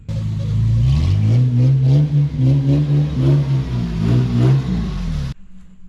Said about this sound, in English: Whenever I spun, the front tire slid too, but both tires are spinning.